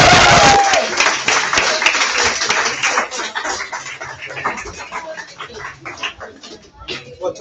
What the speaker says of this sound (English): big round of applause for Jeets